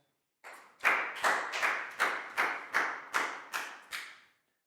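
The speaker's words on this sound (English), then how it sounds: "Big round of applause for Chew, please, guys." A classroom of pupils claps for a classmate, about eight sharp, evenly spaced bursts of hand claps ringing out in a steady rhythm, close and fairly loud, with no talking over them.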